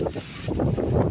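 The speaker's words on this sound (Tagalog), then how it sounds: "Mahangin, malakas ang hangin." Strong wind buffets the microphone in uneven gusts outdoors at the Canada–USA border, a loud, rough rushing that swells and dips over about a second.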